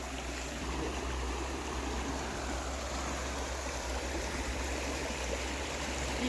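A clear mountain stream flows with a steady, broad rush of water that stays close and constant, and no one speaks over it.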